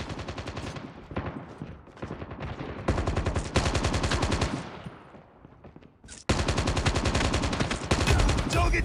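Automatic gunfire in the mobile shooter Call of Duty Mobile: several long, loud bursts of rapid rattling shots, one tailing off into an echoing fade, followed after a brief lull by another dense burst.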